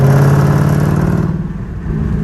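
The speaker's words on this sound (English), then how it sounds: "You guys can hear how it sounds. You guys can hear more pop, a lot more." Catless Dodge Charger Scat Pack exhaust revs loud and close, with a deep throbbing drone that crackles and pops as the revs fall away, heard from inside the car with the windows down.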